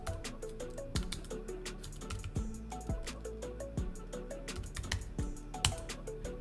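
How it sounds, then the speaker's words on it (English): Fingers type on a computer keyboard in quick, irregular bursts of close, crisp key clicks, with no talking. "if you type in numerology"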